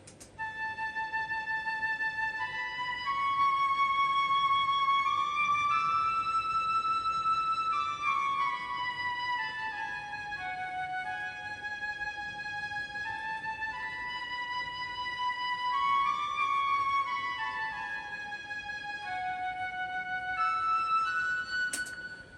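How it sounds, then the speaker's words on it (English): A synthesized flute carries a flowing, legato melody over a soft, steady backing bed in an emotional afrobeat-style production, its notes rising and falling continuously and clearly out front throughout. "So I added the flute,"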